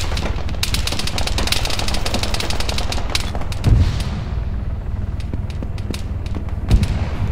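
Loud automatic gunfire in the military video game ArmA 3 King of the Hill: a dense burst at the start, then scattered single shots and a few heavy low booms as the firing thins out.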